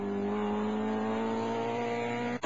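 A Ford Escort Mark II rally car charges flat out through a bend, its engine holding a loud, steady high-revving note throughout at close range, with no voices.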